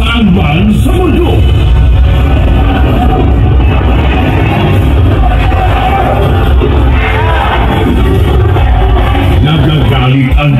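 A large crowd shouts a political chant for Duterte, loud and continuous throughout, a dense mass of yelling voices at a rally.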